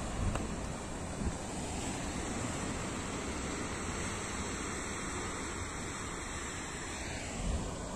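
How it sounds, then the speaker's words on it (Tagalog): Sea waves wash continuously onto a beach, a steady soft roar of surf with wind, heard from close by and fairly faint, with no voices. "Ang ingay ng alon, maganda pakinggan."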